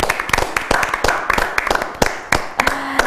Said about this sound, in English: Give her a hand clap for inspiring the country.